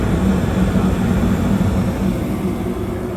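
A Rheem gas furnace with a failed blower runs with a loud, steady low roar and hum, a constant droning rumble with no breaks for the whole stretch.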